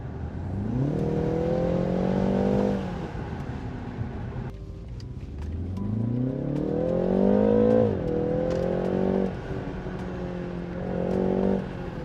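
A BMW engine in Sport transmission mode revs up through the gears, its pitch climbing and dropping with each shift as the car accelerates, heard from inside.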